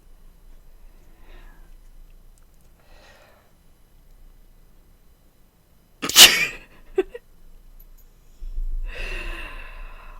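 A single sharp sneeze close to the mic in a quiet room, followed by a short sniff and then breathy rustling.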